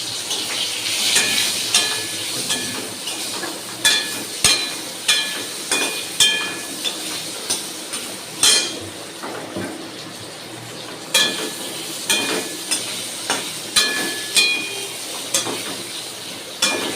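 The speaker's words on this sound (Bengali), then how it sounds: "আমটা একটু ভাজা ভাজা হয়েছে," Mango pieces with turmeric fry in a pan with a steady close sizzle, broken by repeated rhythmic scrapes and clacks of a spoon stirring against the pan.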